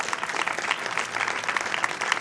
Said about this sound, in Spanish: teniendo en mente a Pablo Robito, para quien volvemos a pedir un aplauso